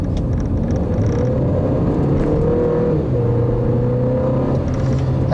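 A 2015 Hyundai Sonata Eco prototype with a turbo engine drives steadily, its low engine drone and road rumble continuous and close, with gear-like pitch shifts midway and no talking.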